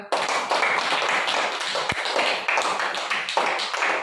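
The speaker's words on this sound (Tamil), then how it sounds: "வெரி குட் கிளாப் பண்ணுங்க" A group of fifth-grade children in a classroom claps in quick, uneven bursts, a busy patter of hands that continues steadily with slight swells.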